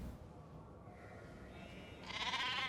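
A sheep bleats in a video game, a faint drawn-out bleat rising near the end over a low background hum.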